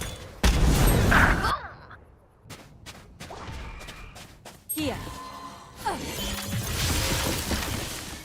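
A grenade blast in a tactical shooter video game, a loud sudden boom with crashing debris, then quieter gunfire and game effects, with voices talking over the mix.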